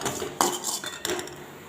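Grated coconut dry-roasts in a pan over a medium flame. A metal spatula scrapes and clinks against the pan, with two sharp knocks standing out amid a brief, close clatter.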